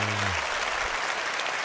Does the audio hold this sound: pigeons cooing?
no